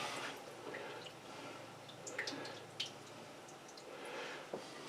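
Liquid drains from a can of beef for chili, faint trickles and soft drips with a few small splashes, quiet and close.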